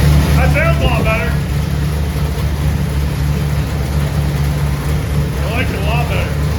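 Carbureted 6-liter engine running on a dyno, a loud continuous low drone holding steady throughout, with brief bursts of talk near the start and end.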